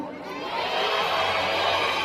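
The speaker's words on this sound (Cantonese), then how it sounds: "用你哋熱烈嘅掌聲同埋歡呼聲，一齊叫佢嘅名字出嚟得唔得？" Audience at an Asian Film Awards warm-up event for a Thai idol, cheering and applauding steadily with a loud, continuous crowd roar and no break.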